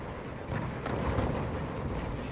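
Rocket fire from an M202 FLASH launcher in the Forts strategy game, a dull low rumbling salvo of booms and blasts that stays fairly steady and moderately loud with no voices over it.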